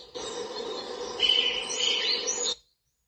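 Chirping bird calls play from a sunrise alarm clock sound machine, a faint, thin electronic recording of twittering birds lasting about two seconds before cutting off abruptly.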